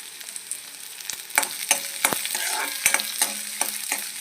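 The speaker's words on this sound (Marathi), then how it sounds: "आता या स्टेजवरती आपल्याला घालून घ्यायचा आहे कांदा. त्याला पण थोडं शॅलो फ्राय होऊ द्यायचा." Onion shallow frying in oil for lemon rice, crackling and sizzling steadily up close, punctuated by a series of quick scraping stirs against the pan.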